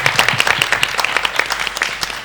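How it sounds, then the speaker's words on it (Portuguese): A studio audience claps for itself on a Brazilian talk show, brisk rapid applause from a modest crowd, loud and close, thinning out near the end. "Palmas para todos nós"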